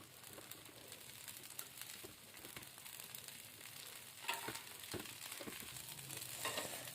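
Millet roti (sajji rotti) cooks on a pan after a little oil is drizzled over it, making a soft, continuous sizzle with scattered crackles and a faint cooing bird in the background.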